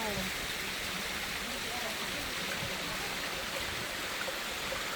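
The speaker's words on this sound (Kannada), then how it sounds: "ಸರಿಯಾಗಿ ಬರ್ತಾ ಇದೆ ಮಳೆ ಅಂತೂ." Monsoon rain falls steadily at Lohagad Fort, a soft, even wash of hissing patter with no breaks, sitting fairly faint and distant throughout.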